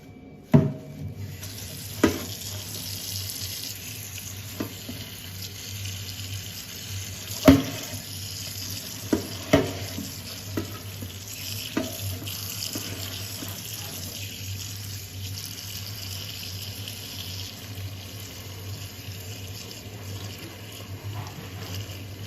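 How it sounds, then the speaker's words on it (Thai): Herbal drink ingredients are rinsed under a running kitchen tap to wash off dust, with a steady stream of water and occasional clunks and taps as they are handled, and no talking. "เราก็ต้องเอาเขานะคะมาล้างน้ำค่ะ เพื่อเอาฝุ่นออกค่ะ"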